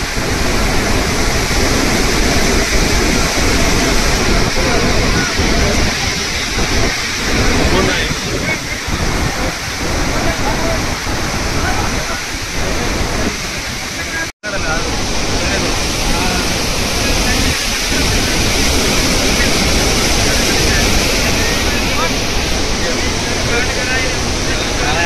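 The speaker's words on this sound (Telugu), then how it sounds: "అక్కడ పడిన వాటర్ అన్నీ ఇక్కడ వరకు వస్తున్నాయి" Water pouring and falling at Srisailam Dam makes a loud, steady roaring rush that fills the whole stretch, with one brief dropout partway through.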